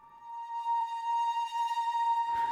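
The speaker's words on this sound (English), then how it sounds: "It's the Arctic Swells preset." Spitfire Labs Arctic Swells preset unfolds as a soft, sustained tonal pad, a steady held note with shimmering upper layers swelling gently, ending in a brief noisier burst.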